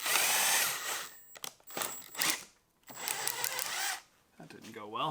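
A drill bit grinds into a wooden test fireplace mantle, tearing out the grain. Loud, close, whining bursts of drilling stop and start, with vocal sounds mixed in.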